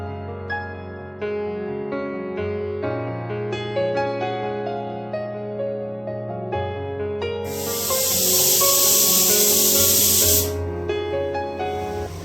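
A pressure cooker whistle lets off a loud, steady hiss of steam for a few seconds while mutton cooks, rising over soft background music and cutting off abruptly.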